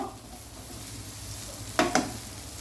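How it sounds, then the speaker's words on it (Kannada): Sprouted moong beans cook in a pan for a kurma gravy, giving a steady low sizzle with two brief louder scraping or stirring bursts near the end; no one speaks. "ಮೊಳಕೆ ಕಾಳು ಉಂಟಲ್ಲ, ಅದನ್ನು ಇದೇ ಇದರಲ್ಲಿ ಬಣಲೆಯಲ್ಲಿ ಬೇಯಿಸ್ತೇನೆ ನಾನು"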